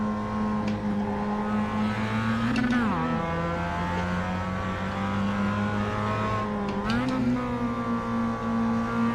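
Mazda MX-5 race car engine in the iRacing simulator, a steady droning tone under load with two quick dips and climbs in pitch as gears shift, continuous and close throughout.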